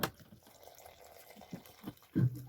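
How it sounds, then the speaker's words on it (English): Hot water poured into a mug while making Dalgona coffee: a short, fairly close splash of pouring liquid near the end, after quiet with faint scattered drips. "And I'll combine this with hot water, okay?"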